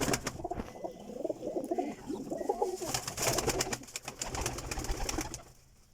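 Sialkoti and Teddy pigeons coo in a breeder's loft setup, soft overlapping throaty calls from several birds, close and continuous, with a few sharper clicks and rustles among them.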